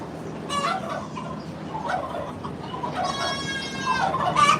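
Large, nearly full-grown auction birds cluck and call repeatedly, several overlapping bird voices close by over steady background noise.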